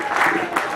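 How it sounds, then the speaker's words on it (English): Crowd at a charity bowl football event applauding the players, a broad steady wash of clapping with a couple of swells, with speech also present. "Give these players a big round of applause."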